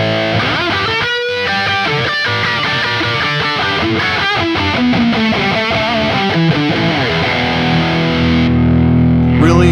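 A heavily distorted electric guitar through a Neural DSP Quad Cortex amp modeler plays a fast, expressive solo with bends and sustained notes, loud and alone.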